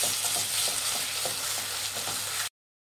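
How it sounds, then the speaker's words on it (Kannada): Ginger garlic paste and green chillies fry in hot oil for dhaba-style mutton sukka, a loud, dense, steady sizzle with faint stirring scrapes, cutting off abruptly. "ಹಸಿ ವಾಸನೆ ಹೋಗುವರೆಗೂ ಫ್ರೈ ಮಾಡಬೇಕು"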